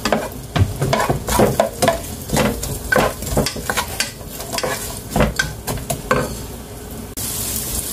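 Onions sauté in a pan for a simple homemade sopas, with a steady sizzle broken by repeated scraping and stirring strokes of a utensil against the pan, close and fairly loud, with no talking.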